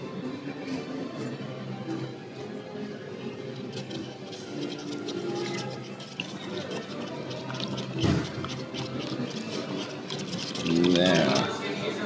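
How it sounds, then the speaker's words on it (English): A spoon stirs espresso into thick sweetened condensed milk in a cup, clinking and scraping in a steady rhythm under busy background chatter and clatter, with a voice rising briefly near the end. "got to give it a good stir because that condensed sweet milk is thick"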